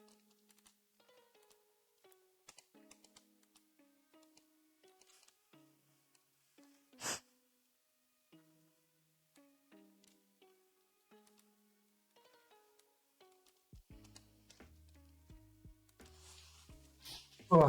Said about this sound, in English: I knew that was coming about 10 seconds earlier than I actually sneezed.